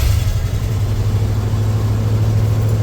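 Engine of a 1986 Ford F250 farm truck, back running after ten years off the road, idling with a loud, steady, low rumble that stays even throughout.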